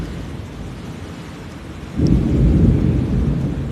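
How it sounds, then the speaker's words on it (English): A thunderstorm in Cincinnati, Ohio, brings steady rain that is joined midway by a deep, loud roll of thunder which rumbles on to the end. "I've told you the storm was coming."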